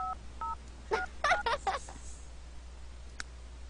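A phone being dialed in The Sims 3: a couple of short paired tones, then a quick burst of keypad beeps and one last tone near the end, close and fairly clear over a low background hum.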